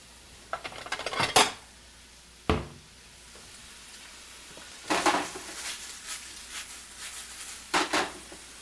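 A spatula scrapes and clanks against a pan of pad thai noodles in irregular bursts, separated by quieter stretches of faint sizzling.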